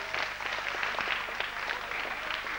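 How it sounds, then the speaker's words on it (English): Audience applause at a Hollywood studio tour special effects stage, a dense, steady wash of many hands clapping at moderate volume throughout, with no clear voices. "Even another nice round of applause"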